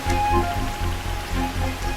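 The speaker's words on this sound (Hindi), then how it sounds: "बारिश हो रही है" Rain falls steadily as a dense, even hiss with a low rumble beneath, heard in a film scene and loud throughout with no voices.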